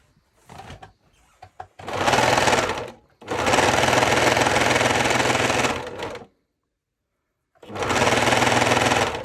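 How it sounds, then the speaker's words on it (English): A serger stitches and trims leftover fabric pieces in three loud, close bursts of rapid mechanical whirring, separated by short pauses and preceded by a few light clicks. "and then I'm going to take it through my serger"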